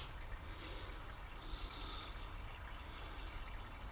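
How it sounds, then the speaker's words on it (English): Water from a garden hose running steadily into a boat's bilge area, a continuous close splashing hiss with a faint trickling fill that stays level and alone for the whole stretch. "Well, I got the garden hose in the bilge area."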